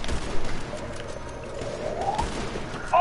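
Gunfire from the video game GTA 5, a dense fusillade of rapid shots rattling steadily for about three seconds, loud and up close in a busy game mix.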